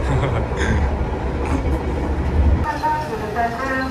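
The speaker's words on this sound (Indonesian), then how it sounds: "Dan ini ada kereta api Kuto Jaya Selatan." The Kutojaya Selatan passenger train rumbles steadily at Kutoarjo station, close and loud, with rolling wheel noise and some higher squeals near the end. A voice talks over it.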